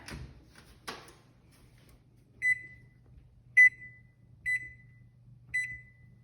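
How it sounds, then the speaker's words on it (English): An oven timer is set while baking bread, giving four short electronic beeps roughly one second apart after a couple of soft clicks and handling noises, against a low steady hum. "So I'm gonna put it in, and we'll set the timer."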